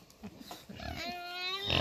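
Several pigs on a farm with a new boar among them, giving rough grunts and snorts in short bursts near the listener, ending in a higher squeal-like call.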